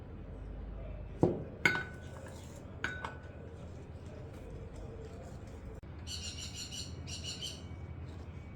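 Flour and baking powder batter for basbousa being mixed in a bowl, with a few sharp clinks of a utensil against the bowl, then softer scraping and stirring, quiet and close with no talk.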